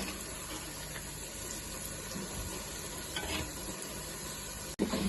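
Pieces of mango sizzle and crackle as they fry in a pan, a steady, moderately faint hiss with occasional stirring scrapes and no talk.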